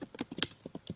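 Typing on a computer keyboard while working in photonic circuit design software: a quick, irregular run of close, crisp key taps with no talking.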